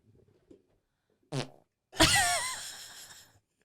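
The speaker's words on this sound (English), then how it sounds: "farted on my own mic." A person farts into a microphone: a short buzzy burst, then a longer, louder, wavering blat that trails off, close and loud with near silence around it.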